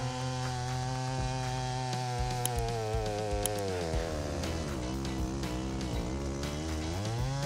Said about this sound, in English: The Style 90 chainsaw can handle oak with precision and great prestige in a short amount